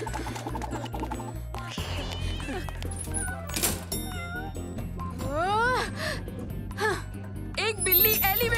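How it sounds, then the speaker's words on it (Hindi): An animated cartoon cat meows several times in rising and falling cries over busy background music and effects. "एक बिल्ली एलिवेटर में चली गई"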